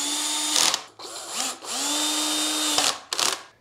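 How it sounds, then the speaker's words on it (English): A cordless power drill fitted with a number 2 bit drives screws into a metal rack for a 20kWh SOK LiFePO4 battery bank, with several loud whirring bursts that rise and fall in pitch, separated by brief pauses, close up and alone. "I'm using a power drill to assemble this with a number 2"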